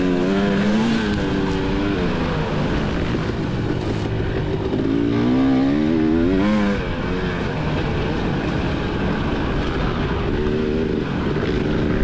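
A Yamaha motocross bike's engine revs loudly and continuously during a race, its pitch climbing and falling with throttle changes and other engine noise mixed in throughout.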